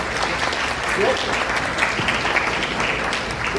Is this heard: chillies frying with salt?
no